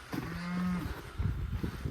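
A single cow moos once, a short low steady call, followed by rustling and knocking sounds nearby.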